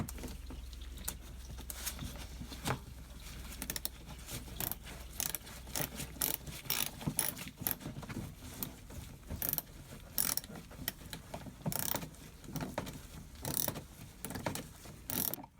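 Close ratchet clicking as an 8mm socket unscrews a panel bolt on a BMW E60 M5, quick irregular bursts of metallic pawl clicks with short pauses between strokes, alone and fairly quiet.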